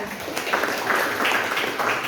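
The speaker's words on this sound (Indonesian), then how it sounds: "Tepuk tangan buat Hilman." A school class claps together, a brief wash of steady applause with some speech mixed in.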